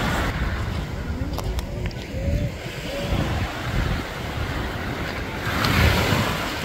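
Waves break and wash up on Lido Beach in Florida while someone walks along the sand, a steady broad surf roar with buffeting wind on the microphone and faint voices underneath.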